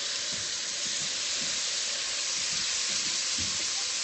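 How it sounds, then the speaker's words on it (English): Lemon juice hits a hot steel pan of browned chicken with a constant, bright hiss and sizzle, steady and fairly loud, with faint soft knocks beneath it. "I'm going to take the lemon halves that I have and squeeze the juice into the pan."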